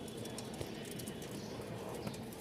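Fancy pigeons kept for sale coo softly and intermittently, buried in a steady wash of background noise throughout.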